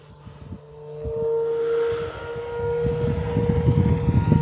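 An E-flite Carbon Z T-28 RC plane on a 6S 5000 battery takes off at full throttle, its electric motor holding a loud rising whine that swells as it climbs away, with wind noise and no speech.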